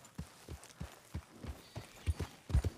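Horses walking, their hooves clip-clopping in a steady rhythm of soft, close thuds, about three steps per second, growing slightly heavier toward the end.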